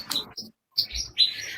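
A pet bird indoors gives a few short, bright chirps and tweets in quick bursts with brief pauses between them. No one is speaking.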